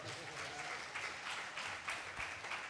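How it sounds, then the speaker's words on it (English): An audience at a drag-for-beginners show gives a round of applause, a steady wash of many hands clapping at moderate distance, continuous and fairly quiet. "A round of applause,"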